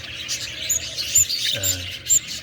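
Parakeets chirp in a breeding box, several high, bright tweets repeating close by over a steady low background hum.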